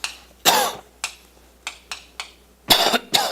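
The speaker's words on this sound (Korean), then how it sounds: "제가 지금 콜록콜록 됐는데 분필가루를 먹었어요" Someone coughs repeatedly, a series of sharp, dry bursts in uneven rhythm, several close together near the end, from inhaling chalk dust while wiping a blackboard during a Korean history lecture.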